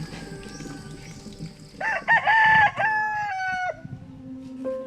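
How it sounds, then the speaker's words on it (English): A rooster crows at dawn in a rural Philippine village, one long clear crow close by, with hens clucking and other farmyard birds around it. "When the rooster crows, Aida Proceso wakes her family."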